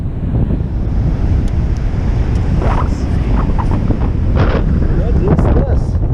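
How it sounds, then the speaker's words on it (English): Loud wind roar mixes with the rushing wash of ocean surf, swelling near the end, while a voice speaks briefly in the background. "Wow, the waves are big."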